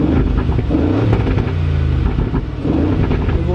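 A 510 hp Aston Martin engine revs in track mode, a loud, close, throaty roar with rising and falling pitch that fills the whole moment.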